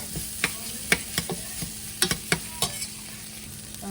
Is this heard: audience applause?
no